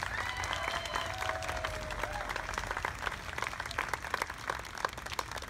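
Congregation at a combined church service gives the Dukes of Albuquerque Ensemble a loud, sustained round of applause, steady dense clapping throughout with faint crowd murmur beneath.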